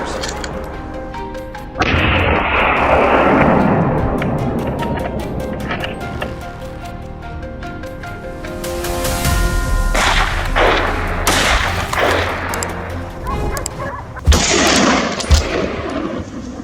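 Several gunshots ring out during a wild boar hunt in an open field, as sharp loud cracks with rolling echoes. They come in scattered bursts, with a heavy thump partway through and a tight cluster of shots near the end.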